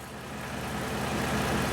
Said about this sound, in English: I got it idling in reverse